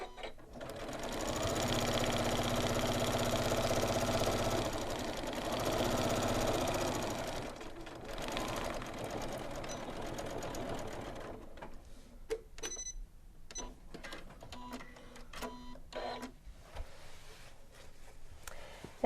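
Janome sewing machine stitching around a shorts leg, a steady close mechanical whirr in two long runs with a brief pause, followed by quieter clicks and handling noises as the fabric is adjusted.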